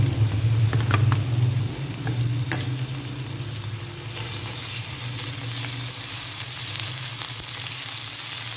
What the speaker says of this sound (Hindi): लहसुन को मैंने अच्छे से फ्राई कर लिया।